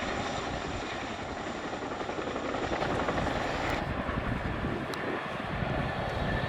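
A Chinook helicopter flies a display manoeuvre at the Dunsfold Wings and Wheels 2018 airshow, its deep rotor and engine roar loud and continuous throughout with no voices over it.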